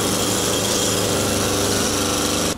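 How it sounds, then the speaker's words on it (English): A jackhammer hammers away close by, a loud, continuous rattling roar that fills the scene without pause before cutting off abruptly at the end. "I didn't notice the guys were setting up with a jackhammer just over there."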